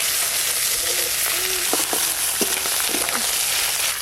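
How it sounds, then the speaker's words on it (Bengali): Hilsa fish heads frying in oil in a wok give off a dense, steady sizzle, close by, with a few clicks and scrapes of a spatula stirring and breaking them up, and no talking. "ইলিশ মাছের মাথাগুলো বেশ ভালো করে ভাজা ভাজা হয়ে গেল"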